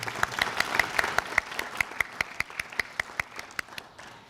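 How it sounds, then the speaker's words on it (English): A luncheon audience at a Rendezvous Royale event applauds, with a steady run of sharp, closely spaced claps that thins out and fades toward the end. "Yes, clap, clap, clap."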